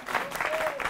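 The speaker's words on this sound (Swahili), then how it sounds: "Tumpige makofi" Studio audience applauding on a talk show, a short burst of steady clapping with a faint voice over it.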